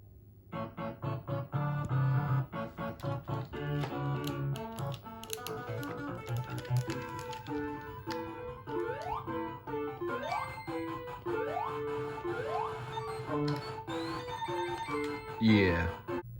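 Sonic the Hedgehog game music from a Sega Genesis with a faulty sound chip, glitchy and distorted with buzzy tones, stuck notes and odd sliding pitches, played continuously at moderate volume.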